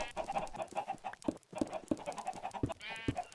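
Chickens cluck in a farm pen inside a modded Minecraft-style game world, with several short, sharp clucks repeating irregularly over a steady background of animal noise.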